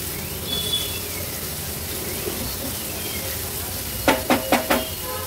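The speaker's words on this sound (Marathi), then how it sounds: "कांदा देखील तेलामध्ये व्यवस्थित परतून घ्यायचा आहे" Chopped onions frying in oil with ginger, garlic and chili for Mumbai-style chicken kheema give a steady, close sizzle, and near the end four quick metallic scrapes of a spoon stirring the pan cut through.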